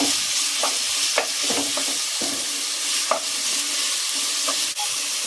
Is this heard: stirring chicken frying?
yes